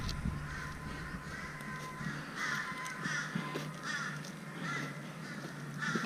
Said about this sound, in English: But the crows are busy, that's for sure.